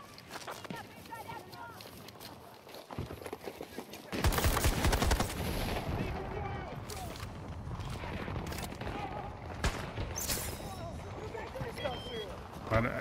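Auto shotgun fire in Battlefield 2042, heavy booming blasts coming in rapid clusters after a quieter opening, mixed with game chaos and a talking voice.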